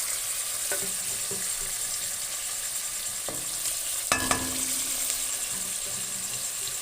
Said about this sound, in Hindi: गोश्त अब इसमें कढ़ाई में डाल देंगे और अच्छे तरीके से इसको फ्राई करेंगे